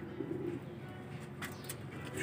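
White pigeons on a rooftop coo softly nearby, a low throaty warble early on over a dull background hum, with a few faint higher chirps later and no speech.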